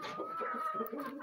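An Embrapa 051 laying hen in Pernambuco gives a short run of soft, close clucks, faint and alone for just over a second.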